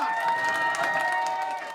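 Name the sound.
audience applause and cheering at Nintendo tennis final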